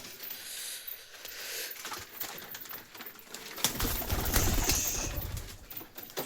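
Pigeons in a loft coo and rustle close by, with a louder burst of flapping wings and scuffling in the middle before the cooing settles again.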